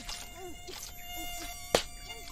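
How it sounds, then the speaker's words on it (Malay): Thin, high mosquito-like whines buzz faintly and intermittently, with one sharp click partway through in a quiet outdoor setting. "Ish, banyaknya nyamuk."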